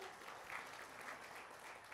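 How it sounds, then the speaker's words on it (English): A seminar audience at an auto sales training talk applauds in a soft, steady wash of distant clapping with a faint crowd murmur underneath. "Give me a big clap,"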